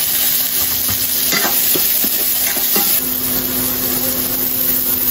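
Ginger and onion frying in a pan, a steady loud sizzle with intermittent stirring scrapes and clinks throughout, no talking.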